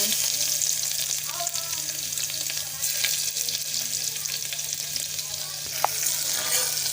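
Cumin, mustard seeds and garlic sizzle steadily in hot oil in a home kitchen, a dense continuous crackle with a faint low hum beneath and one sharp tap near the end.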